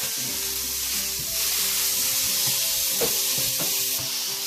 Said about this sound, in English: So what we're going to do is just go straight in with the meat, the whole lot.